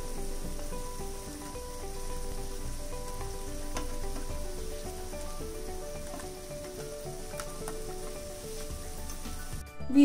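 Coriander leaf pakoras bubble and sizzle in hot oil, a steady dense crackle of deep frying that runs throughout at a fairly close distance, with a brief clatter near the end.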